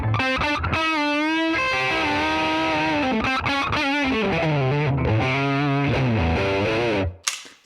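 Distorted electric guitar played through an RB1011 MKII preamp into a Fender Deluxe Reverb amp, sustained overdriven notes and bends ringing loud and alone before cutting off abruptly.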